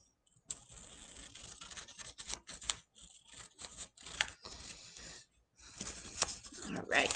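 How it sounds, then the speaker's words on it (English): Scissors cut along a marked line on cardboard for a DIY foosball build, a series of close, crisp snips and rustling cuts with brief pauses between strokes. "we'll cut this one this time. Cut on the line."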